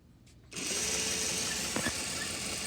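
A Juki sewing machine starts up after a brief quiet moment and runs steadily at full speed, a close, continuous mechanical whir with no talking over it.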